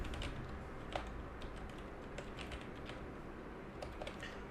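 Code is being typed on a computer keyboard in quick, continuous soft key clicks, fairly quiet, with no voices.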